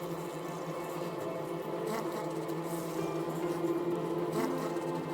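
A swarm of honey bees buzzes steadily and densely, a close continuous drone at an even level with no voices.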